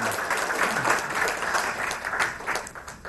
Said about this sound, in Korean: 혹시 시간 되시면 박수 한번 쳐주세요.